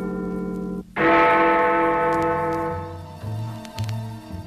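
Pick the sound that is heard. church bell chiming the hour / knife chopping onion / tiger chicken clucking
church bell chiming the hour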